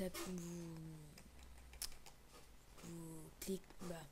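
Light, scattered keyboard clicks tap away quietly while a person speaks intermittently over them.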